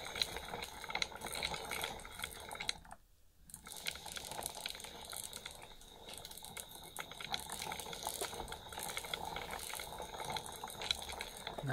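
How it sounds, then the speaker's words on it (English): A homemade crank stirring machine, its crank turning round and dipping up and down into liquid, churns with a continuous sloshing, crackling wash that holds steady apart from a brief lull early on. "this kind of crank mechanism, so to say, kind of like the old fashioned train wheels, was to have it going round and round and up and down into liquid continuously"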